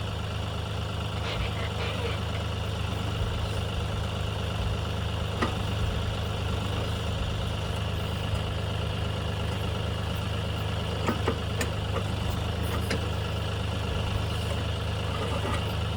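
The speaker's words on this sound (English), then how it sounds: "first time on the backhoe" A Kioti backhoe's engine idles on a farm as a low, steady hum, fairly quiet and continuous, with a few faint knocks and clatters over it.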